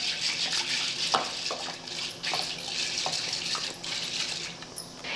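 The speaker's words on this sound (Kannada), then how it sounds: "ಇನ್ನು ನೀರು ಹಾಕಿ ಒಂದು 2-3 ಸಲ ತೊಳಿತೀನಿ ರೀ." Chana dal being rinsed with water in a pressure cooker: close running, splashing water with a few sharp clinks and swishes as the lentils are stirred, steady for several seconds with no speech.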